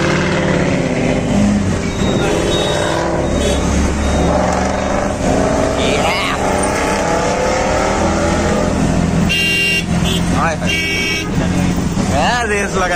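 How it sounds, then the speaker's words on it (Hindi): Car engine revving loudly and roaring nearby amid constant chatter from several people, with a horn-like toot partway through. "भैया एक बार रेव कर दो यार"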